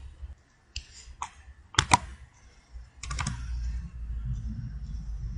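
Typing on a computer keyboard at a shell prompt, a few scattered close keystrokes followed by a quick burst of clicks, alone with faint room hum.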